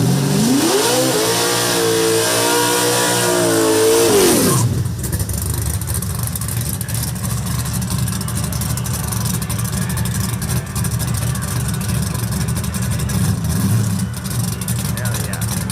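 A drag racing car makes a short test pass, its engine revving up and down in loud rising and falling pulls before settling into a steady heavy roar that fades into track noise.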